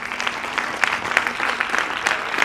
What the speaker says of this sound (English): I would love you guys with a robust applause